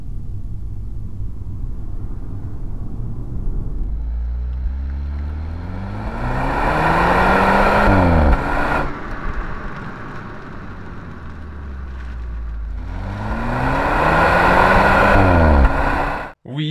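A car engine rumbles and revs, rising through the gears twice with whooshing wind noise, loud and close, no talking, while driving to test fuel rail pressure.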